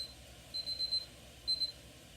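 A kitchen timer alarm beeps in short high bursts, one cluster of rapid beeps followed by another after a pause, fairly faint against a quiet room.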